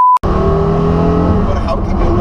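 Porsche Carrera GT revs loudly and close by in a single sustained burst, a harsh roar that holds steady and then begins to fade.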